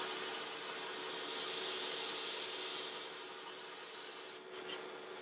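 A 220 grit abrasive pad rubs steadily over a workpiece, a soft continuous hissing scrub, fairly quiet and close, easing off toward the end.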